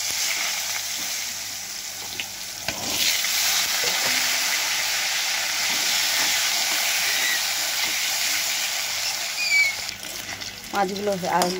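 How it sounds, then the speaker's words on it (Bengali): Potatoes drop into hot fish-frying oil seasoned with black cumin seeds and set off a loud, continuous sizzle and hiss that holds steady for several seconds, and a voice speaks briefly near the end. "তেলের মধ্যে এবার আলুগুলো ছেড়ে দেবো।"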